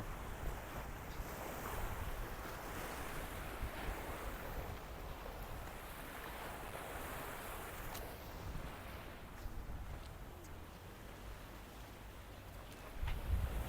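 Sea waves surge up onto the rocky shore at Laem Thaen in Bang Saen in the morning, a steady broad wash of surf with wind noise, continuous and distant-sounding, with no voices.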